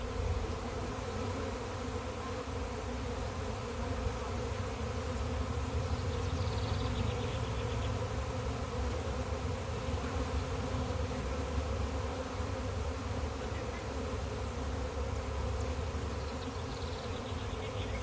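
A honey bee swarm being caught in Galesburg gives off a dense, unbroken buzzing hum that stays close and even throughout, with no talking over it.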